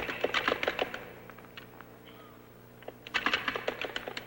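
Typing on a keyboard and a five-key chord keyset in Douglas Engelbart's early text-editing demonstration: quick bursts of crisp key clicks at the start and again near the end, with a quieter gap between.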